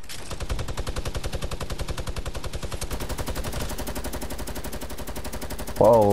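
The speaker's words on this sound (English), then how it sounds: "Whoa, is that the new machine gun firing?" Rapid, steady automatic fire from a new machine gun in a Fortnite 50v50 match, a dense rattling burst that runs nearly unbroken for several seconds, ending with a louder, sharper sound right at the close.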